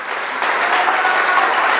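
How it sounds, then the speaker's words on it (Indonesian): A church congregation cheers and applauds for God during a sermon in Mentawai, a loud, dense, continuous wash of clapping and voices that swells slightly after the start. "Berikan sorak-sorai buat Tuhan."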